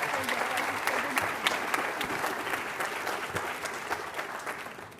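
An audience at a hospital community health anniversary event claps warmly to welcome a speaker, a steady, dense applause that slowly tapers toward the end.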